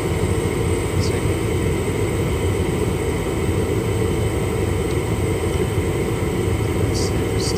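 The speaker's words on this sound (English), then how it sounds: "So the blower is working." A home furnace blower runs steadily after the furnace is switched on, a constant broadband whoosh of moving air with a faint hum, unchanging throughout.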